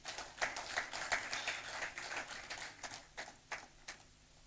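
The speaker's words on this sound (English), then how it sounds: "A round of applause for him." Applause for a spoken-word poet at a cocktail-and-conversation event, a scattered patter of claps that gradually thins out and fades.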